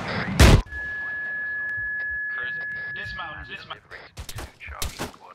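A rocket launcher fires with a back blast in the ArmA 3 video game: one loud, sharp burst at the start, then a sustained ringing tone with clattering and jumbled game sounds and voices underneath.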